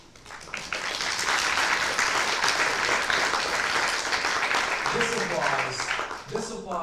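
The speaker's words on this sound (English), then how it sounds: "This applause here is preemptive applause for the speakers." Audience applause fills a conference hall for SIGBOVIK 2017, a steady, dense roar of many hands clapping that holds for several seconds before thinning, with a voice starting to speak near the end.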